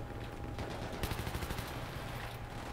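A light machine gun in Battlefield 3 fires a rapid burst of shots at moderate distance, rattling for about a second among ongoing battlefield noise.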